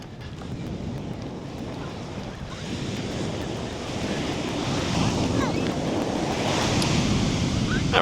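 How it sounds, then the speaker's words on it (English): Ocean waves crash steadily on the sand of a Newport Beach shore break, a broad, continuous roar of surf with wind buffeting the microphone, growing slightly louder toward the end. "this section of beach, known for its shore break around here, are the waves that can break pretty big close in to the sand"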